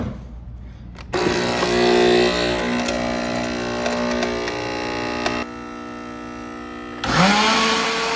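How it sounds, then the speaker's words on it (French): A blender whirs loudly for several seconds, mixing a coffee drink in a kitchen, starting abruptly, running steadily with slight pitch shifts, pausing briefly, then revving up again. "je vais mixer tout ça"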